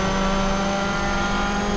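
Race car engine from the PlayStation 2 game Toca Race Driver 3 drones at steady high revs, a loud continuous whine with no breaks.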